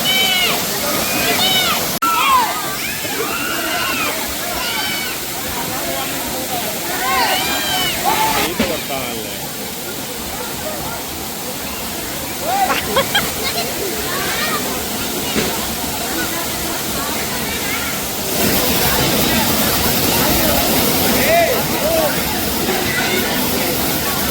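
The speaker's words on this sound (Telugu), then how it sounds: "రఘు వాటర్ ఫాల్స్ దగ్గర ఫుల్గా తడిచిపోయాను కదా" Rushing water from a waterfall deep in the Nallamala forest hisses as a constant broadband wash, fairly close, while a person talks over it throughout.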